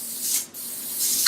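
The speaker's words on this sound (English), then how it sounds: "I'm just going to spray over this nail with the white paint" Airbrush spraying white paint over a nail, a close, loud airy hiss in two bursts separated by a brief pause.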